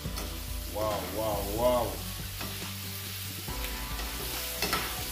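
Chicken stir fry being stirred in a pot, with soft scraping and a steady sizzle alongside it. A voice speaks briefly over the cooking noise.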